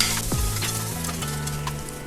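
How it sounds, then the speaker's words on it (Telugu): Ginger pieces and green chillies fry in a pan with a continuous close sizzle, broken by the scrape and clatter of stirring. "మిర్చిని కూడా యాడ్ చేసుకుని మిర్చి కూడా బాగా ఫ్రై అయ్యేటట్టు బాగా ఫ్రై చేసుకోండి"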